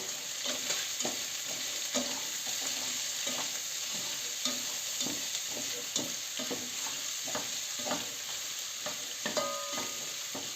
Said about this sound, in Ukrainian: ще цибулю так підтушуємо